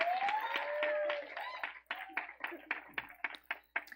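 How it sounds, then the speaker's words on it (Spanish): Scattered audience clapping at a church faith forum breaks out after a voice, building into sparse, uneven claps with a crowd murmur that sound fairly close and moderately loud. "aplauso."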